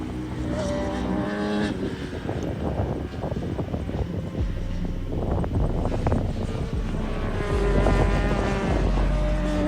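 A racing motorcycle at full throttle during a road race, its engine roaring loud and close, climbing in pitch over steady wind rush.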